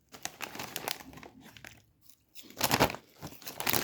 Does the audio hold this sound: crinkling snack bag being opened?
yes